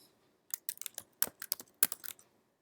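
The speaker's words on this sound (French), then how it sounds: "Quand j'appuie sur une touche du clavier" About a dozen quiet, irregular keystrokes tap on a computer keyboard, clicking in quick bursts with brief pauses and no talk.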